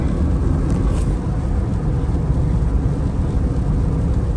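A 2004 Hyundai Accent with a newly replaced clutch cruising in fifth gear, giving a steady low rumble of engine and road noise inside the cabin with no shifts or talk.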